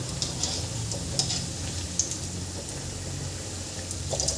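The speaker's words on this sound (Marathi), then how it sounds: "आणि याला छान तळून घ्यायचं आपल्याला." Steamed sambar vadi frying in hot oil, a close, steady sizzle and crackle that continues throughout, with a few faint clicks of a utensil turning the pieces.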